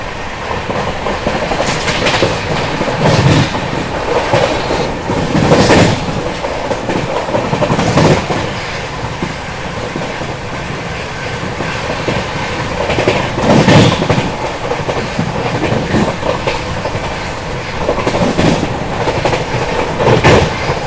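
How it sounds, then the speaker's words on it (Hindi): Duronto Express overtaking the Mysore Superfast at speed on the Amla Junction main line: a loud, sustained roar with rhythmic clickety-clack bursts as coaches cross rail joints, passing close by. "आमला जंक्शन के स्किप के साथ साथ मैसूर सुपरफास्ट को ओवरटेक कर रही है यहाँ पर अपनी दुरंतो एक्सप्रेस।"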